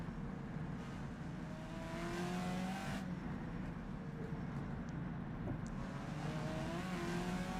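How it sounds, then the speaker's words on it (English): A Matra race car in a racing video game, its engine droning continuously at a steady, fairly distant pitch with slight shifts in tone. "I love the sound of this Matra. It's a sick sounding car, in a good way."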